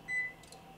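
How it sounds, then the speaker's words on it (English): A kitchen oven timer gives a single short, clear electronic beep in a quiet room while vegan peanut butter chocolate chunk cookies bake. "Okay, timer."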